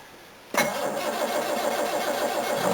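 Jaguar XJ6 engine being cranked cold with no choke: quiet at first, then the starter kicks in abruptly with a close, rapid, rhythmic cranking churn that continues without catching.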